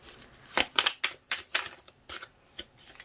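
Tarot cards are shuffled by hand in a quick run of crisp riffling and slapping bursts, close and alone without talk.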